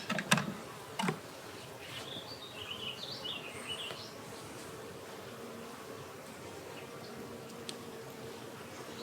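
A small swarm of honeybees being caught and moved hums as a steady, quiet drone with some louder close wing buzzes passing by, plus a couple of sharp knocks near the start.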